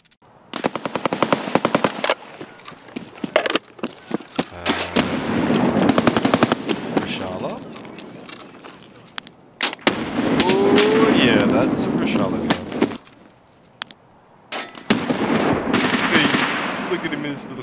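Gunfire in Escape from Tarkov, loud rapid automatic bursts in several separate volleys with short pauses between, a voice talking now and then over the shooting.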